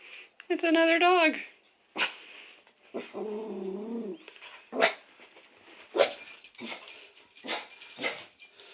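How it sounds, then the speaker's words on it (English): A dog barks and whines in a home, a sharp yip and whimpering vocalizations followed by several short barks spread across the stretch, heard close and fairly loud, with people talking in between. "Oh, it's another dog."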